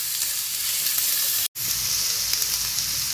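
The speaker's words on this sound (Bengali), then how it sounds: "এখন এখানে আমি 1 কাপ পরিমাণ পেঁয়াজ কুচি দিয়ে দেব এবং এই পেঁয়াজ কুচিগুলো আগে আমি 2 মিনিট ধরে নেড়ে নেব।" Chopped onion, about a cup, sizzles steadily in hot oil while being stirred, a continuous bright frying hiss with a brief dropout in the middle.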